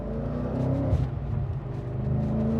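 A supercharged Audi RS4 B7 accelerates, its engine giving a steady, fairly loud drone with a slight rise in pitch, heard from inside the car with no talking.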